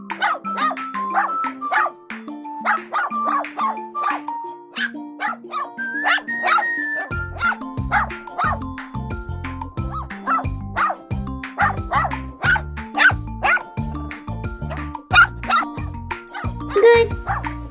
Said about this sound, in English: It's my dog.